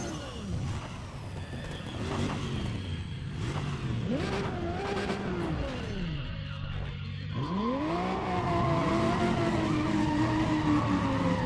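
Toyota Supra in a half-mile drag race in Need for Speed ProStreet, engine revving up and dropping through repeated gear shifts with rising and falling pitch, loud and continuous with tire noise.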